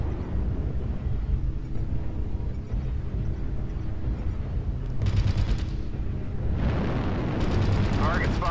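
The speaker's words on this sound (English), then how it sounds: "Target spotted. Artillery strike activated." Artillery strike explosions in a video game form a continuous deep rumble, with booming blasts that swell midway and near the end. A game voice speaks over them.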